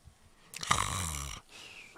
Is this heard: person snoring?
yes